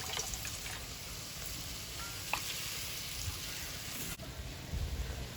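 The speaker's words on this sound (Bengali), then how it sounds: "তো আর একটু জল দিয়ে দেব।" Water goes into a hot cooking pot of prawns with elephant foot yam stalks in a village kitchen, giving a faint, continuous sizzle and bubbling hiss with no voices.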